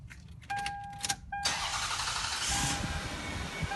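A 2000 Lexus RX300 engine starts with a newly programmed second key: warning chimes and a brief crank, then the engine catches and settles into a steady, close idle.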